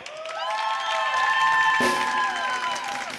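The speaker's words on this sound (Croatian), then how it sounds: "Da vas čujem, aplauz za mene." A live TV show studio audience applauding and cheering, sustained through the clip, with tonal music or voices ringing over the clapping.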